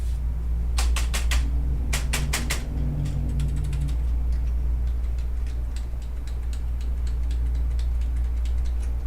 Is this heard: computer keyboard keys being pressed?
yes